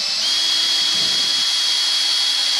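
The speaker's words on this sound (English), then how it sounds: "line up your screws and drill straight into the" A power drill drives screws into pine boards for a bird box, its motor holding one steady high whine at close range for the whole stretch.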